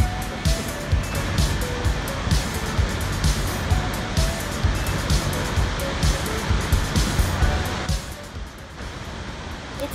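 Steady roar of Snoqualmie Falls, a waterfall with a scenic trail and observation deck, a dense continuous rush of water that eases slightly near the end, with no talk.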